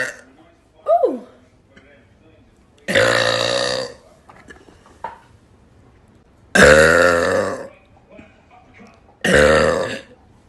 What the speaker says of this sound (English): is strawberry flavored and is making my burps taste like strawberries.